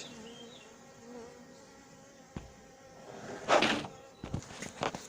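Honeybees clustered in a cardboard box buzz in a steady low drone, followed by a sharp knock and then louder bursts of buzzing and rustling toward the end.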